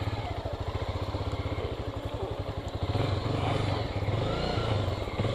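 A Honda Titan 150 or CB 300 motorcycle engine runs close by with a steady, throbbing pulse that swells louder about halfway through, sounding like revving, with no speech over it.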